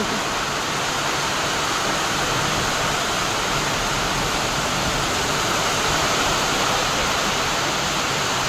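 Heavy monsoon rain driven by strong wind, a steady, dense roar that stays loud and unbroken from start to finish with no voices.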